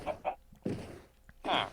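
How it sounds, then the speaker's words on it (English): Short Minecraft chicken clucks in a loose, uneven pattern, several brief soft calls and one fuller call near the end, close by with no talking. "The chickens are clucking."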